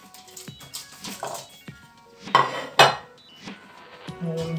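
Clattering and clinking of seasonings dropped into a metal pot while making aspic, with a couple of louder thuds and scattered kitchen clatter.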